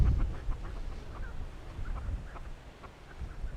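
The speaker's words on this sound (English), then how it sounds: "It's the fancy hairdo chickens." Soft, scattered clucks from a few fancy crested chickens, fairly faint over a low breezy rumble outdoors.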